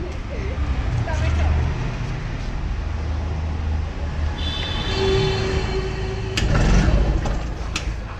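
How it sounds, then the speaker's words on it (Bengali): A second-hand TVS XL 100cc motorbike engine idles with a steady, low rumble that holds throughout, while voices murmur faintly in the background. "দেখাবো বাইকটির সাউন্ড কন্ডিশন"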